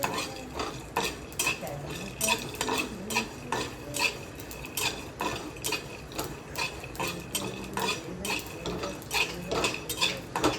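Peanuts and coriander seeds are dry-roasted in a pan for Bhagara Baingan, with a spatula scraping and rattling in a quick, steady rhythm of close metallic strokes for about ten seconds, with no talking.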